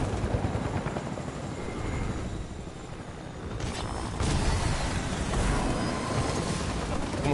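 Helicopter in the video game Fortnite, a steady whirring rotor drone that runs throughout and swells louder partway through, with a faint voice briefly underneath.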